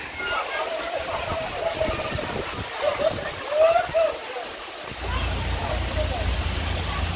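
A monsoon waterfall at Malshej Ghat roars as a constant rushing wash of falling water, close by, with someone talking over it and a deeper rumble swelling near the end.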